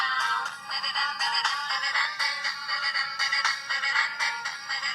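A T-Mobile G1 (HTC Dream) Android phone ringtone plays alone as a bright, steady electronic melody, loud and continuous for the whole stretch with dense repeating notes.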